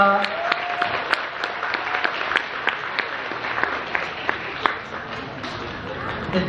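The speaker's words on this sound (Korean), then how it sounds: "다시 한번 큰 축복의 박수 부탁드리도록 하겠습니다." Guests applaud at a summer wedding ceremony in a convention hall, a steady roomful of clapping with individual sharp hand claps popping out now and then throughout.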